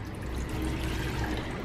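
Water poured into a pan for a chocolate cake syrup, a steady close splashing pour running unbroken the whole time with no talk over it.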